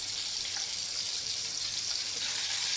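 Ground masala and onions fry in a pan for a fish curry, giving a steady, even sizzle that holds at the same level throughout, with no talking.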